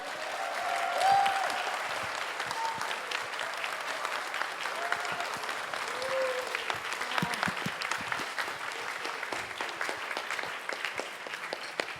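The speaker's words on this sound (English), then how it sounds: "please give me a round of applause to the program coordinator" Conference audience applauding at a closing ceremony in Bangkok, a dense, sustained wash of many hands clapping that holds steady throughout, with faint voices now and then.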